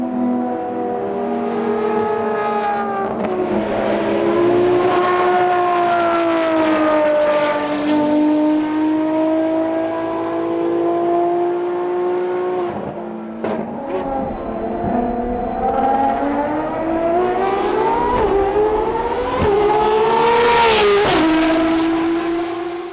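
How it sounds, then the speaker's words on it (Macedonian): A Ferrari FXX-K engine revs and pulls away, loud and close, with rising and falling harmonic pitch sweeps over about twenty seconds, a brief dip midway before a final sharp high-pitched scream near the end. "Нека звукот на Ферари FXX-K ви остане во сеќавањето барем до нашата следна средба"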